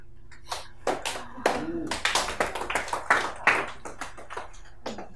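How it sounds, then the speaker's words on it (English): A small group claps hands as a closing gesture to a Huna energy toner exercise, with scattered uneven claps mixed with voices and chatter in a room. "clap your hands"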